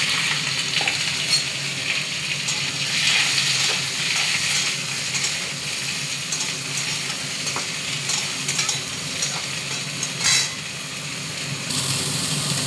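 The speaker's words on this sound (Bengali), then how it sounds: "এখন দিয়ে দেবো কড়াইয়ের মধ্যে এই ফুলকপি আর আলুগুলো" Steamed cauliflower and potatoes frying in a wok, a steady close hiss and sizzle with occasional scrapes and clinks of stirring, no talking.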